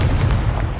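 A Confringo fire spell blast in Hogwarts Legacy: a short, loud, dense burst that roars for under a second, heavy in the low end, with no voice over it.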